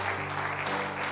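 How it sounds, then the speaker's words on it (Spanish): A congregation at a ministers' gathering applauding in a steady, even rush of many hands, with a low electrical hum running underneath and no clear speech. "Le das aplausos, Señor."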